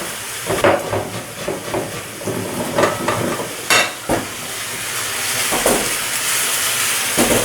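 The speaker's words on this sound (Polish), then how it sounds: "Cebula się przysmaża, należy od czasu do czasu ją przemieszać." Onion sizzling and frying in a pan, a steady close hiss broken by repeated scraping stir strokes, loud and alone with no voices.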